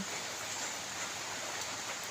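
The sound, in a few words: rain falling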